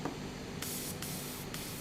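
Gundam Marker airbrush spraying through a misaligned tip: a steady close hiss that swells into three strong, breathy bursts of spray, each lasting under half a second.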